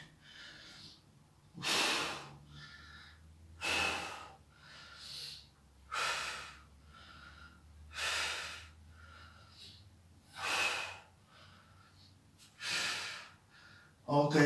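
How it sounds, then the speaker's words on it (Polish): During a plank exercise in a fitness class, heavy breathing comes in regular loud bursts roughly every two seconds, with sharp forceful exhales and quieter gasping inhales between them. "Oddychamy, oddychamy."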